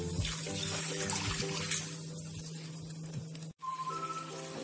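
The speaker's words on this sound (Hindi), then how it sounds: "इस स्टेज पे हम इसमें पानी ऐड करते हैं।" Water poured into a kaju masala curry cooking over a low flame, making a steady running, sizzling wash close to the pan that briefly cuts out near the end, with no talking.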